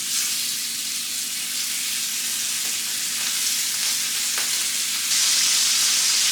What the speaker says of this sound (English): And then I'll go ahead and put in the pork to get color.